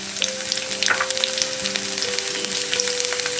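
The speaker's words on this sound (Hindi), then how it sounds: "मेरे तेल गरम हो गया है, मैं इसमें जीरा डाल रही हूँ और कटी हुई पतरे पतरे लहसुन है 4-5 कली" Cumin seeds and thin-sliced garlic cloves fry in hot oil for an Indian-style pasta, giving a steady close sizzle with crackling pops throughout, alone without talk.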